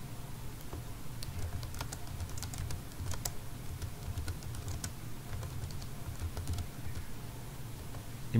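Steady typing on a computer keyboard while entering text for an HTML page, a continuous run of light clicks alone over faint background hum.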